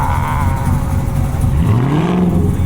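Revving engine of a 600 hp Dodge Charger Scat Pack with tire spin, a steady loud roar with a rising pitch sweep near the end, heard alone without talk.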